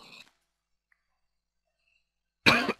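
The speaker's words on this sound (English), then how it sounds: "Oh, stupid coughing" A person coughing while playing Minecraft: a short faint burst at the start, a long silence, then a loud, close harsh cough followed by another quick one.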